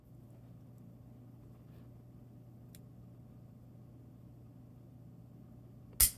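A Girsan Regard Gen 4, a Beretta 92-style pistol, gives a single sharp, close trigger-break click in single action near the end of a quiet stretch, with only a tiny tick earlier and no speech.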